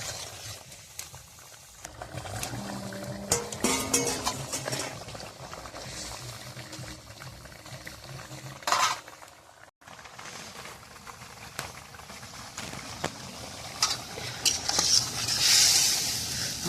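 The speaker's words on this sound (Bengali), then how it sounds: "এবার দিয়ে দেবো মাছ।" Fish dropped into a simmering curry with eggplant and potato, cooked in a pot over an outdoor fire: a low bubbling simmer with stirring and splashing, a brief louder plop midway, and faint background sounds.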